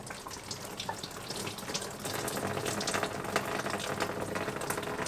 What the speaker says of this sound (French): on se rince les mains